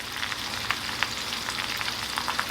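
Sesame oil and butter sizzle in a hot pan for stir-fried Cantonese scallion ginger lobster, a steady hiss with scattered pops and crackles throughout, close and alone.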